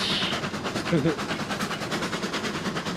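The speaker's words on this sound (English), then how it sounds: "This train is so painfully slow." Shay locomotive rolling along in Railroads Online, a steady rhythmic mechanical chuffing and rail clatter that runs throughout, with someone talking over it.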